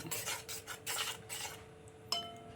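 Mango barfi mixture being stirred in a pan at home, giving soft scraping and rubbing strokes in a steady rhythm, close and fairly quiet, with a brief sharper clink near the end.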